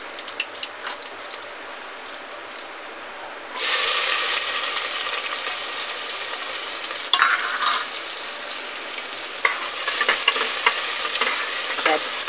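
Chopped onions hit a hot pan in a home kitchen and burst into loud, continuous sizzling, with occasional stirring scrapes and a brief flare of hiss partway through; no talking.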